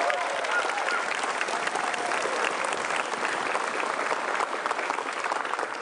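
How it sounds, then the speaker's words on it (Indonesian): A large audience at a televised stand-up comedy show breaks into loud, sustained applause that holds steady for nearly six seconds, with a few crowd voices mixed into the clapping. "Tepuk tangan yang meriah buat Bapak Basuki Cahaya Purnama."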